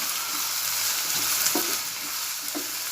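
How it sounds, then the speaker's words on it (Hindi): Sliced onions and curry leaves frying in hot oil for a Konkani prawn masala, a dense continuous sizzle with soft stirring taps, close and steady throughout, no voices. "इसमें कड़ी पत्ता डाल रही हूँ प्याज के साथ, उसे भी तेल में"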